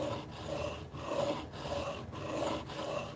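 A chisel scrapes back and forth on a 400 grit sharpening stone, a rough, gritty rasp in steady strokes roughly every half second, close but fairly quiet, with no talking.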